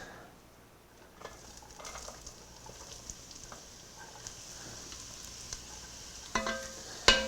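Vegetables hiss and sizzle in a hot pan just used to sear venison for osso buco, a soft steady fry with occasional stirring scrapes and a sharper clatter near the end.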